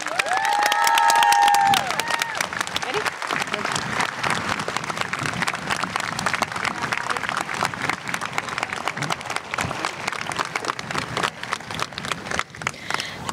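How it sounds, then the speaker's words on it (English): A graduation audience applauds honored educators with sustained, dense clapping mixed with scattered cheers and shouts, loud and steady for many seconds after a brief spoken moment at the start. "Join us in giving them a huge round of applause."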